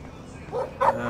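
A dog barks in the video game Life is Strange, with a short burst of yips near the middle and a louder bark toward the end over a low game background.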